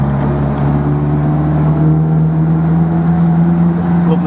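The engine of a 1950 MG TD Midget roadster runs steadily and loudly at close range, giving a smooth, even hum with no misfires.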